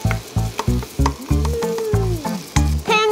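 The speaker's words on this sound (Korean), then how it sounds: "냄비에 올리브유를 넣고 다진 양파 두 숟가락 다진 마늘을 조금 넣고 볶아주세요" Chopped onion and a little minced garlic sizzle in olive oil in a pot, with repeated close stirring scrapes in a steady rhythm and one rising-falling squeak as the pan is worked.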